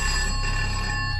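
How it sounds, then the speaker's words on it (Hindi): A landline telephone rings in a morgue, a steady electronic ring that holds loud and continuous through the whole moment, with no voices. "दिलीप ने जब उस नंबर पर फोन किया"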